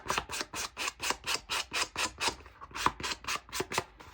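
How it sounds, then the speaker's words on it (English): Sandpaper rubs rhythmically along the edges of scrapbook paper for a layout, a steady run of about fourteen quick, close, even scraping strokes with a brief pause midway. "You can sand as much or as little as you want."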